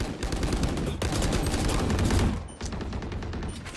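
Sustained automatic gunfire in Valorant, loud and close, a steady rapid rattle of shots that briefly drops at one point before resuming.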